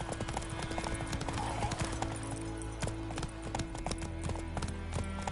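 Hoofbeats of a galloping horse in The Witcher 3, a fast steady clip-clop that runs continuously at close range over ambient game sound.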